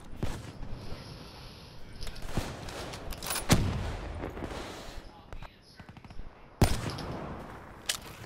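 Scattered gunshots from a weapon in Call of Duty Black Ops 3, several sharp single cracks spread out over a low game background, with a voice talking along the way.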